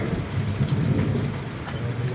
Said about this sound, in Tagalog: Ulan po sa tanghali, sa hapong ito.